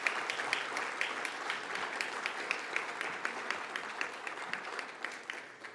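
An audience at an education week awards event applauds the winners with sustained, even clapping and distinct individual claps punctuating the steady wash of sound.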